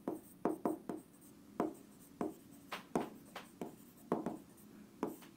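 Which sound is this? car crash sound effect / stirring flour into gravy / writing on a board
writing on a board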